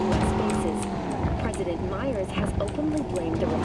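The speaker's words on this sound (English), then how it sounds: "Avoiding cars and traffic is so difficult." Cars in traffic in Cyberpunk 2077 give a constant engine hum with brief tire squeals and passing whooshes, and game voices and effects are mixed in over it.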